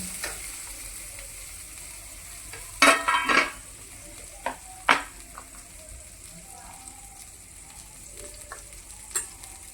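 A spoon stirs tomatoes frying for rava upma over a soft, steady sizzle, with a few sharp scraping clatters and scattered clicks near the pan.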